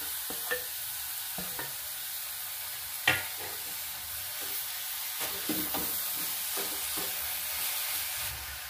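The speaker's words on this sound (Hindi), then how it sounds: "अब इसमें मैं नारियल डाल दूंगी और इसको फ्राई कर लूँगी अच्छी तरह से।" Grated coconut fries in melted jaggery while being stirred, a continuous sizzle broken by scattered scrapes and knocks of the spoon against the pan, with one sharper clack partway through.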